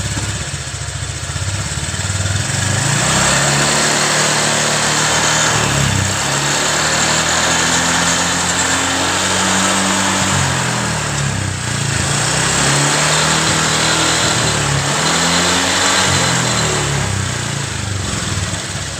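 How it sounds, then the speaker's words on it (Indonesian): A repaired motorcycle engine runs steadily at idle after a fix for white exhaust smoke, its low throbbing drone continuous and close with slight surges in rhythm, no talking over it. "mesin bekerja dengan bagus"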